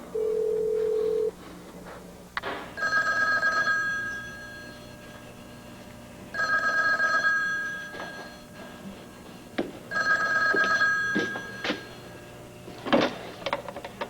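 An office telephone rings three times in a regular pattern, each long buzzing ring separated by pauses, with a brief single tone at the start and faint room noise and small knocks between rings, no talk.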